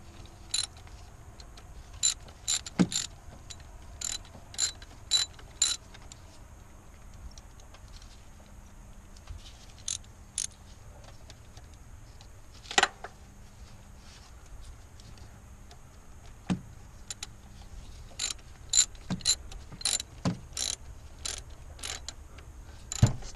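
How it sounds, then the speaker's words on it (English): Quiet, sparse ratcheting clicks come in short bursts with pauses, as an 8mm hose clamp on a 2003 Ford F150 power steering hose is tightened; the work sounds close and there is no talk. "Tighten up the hose clamp."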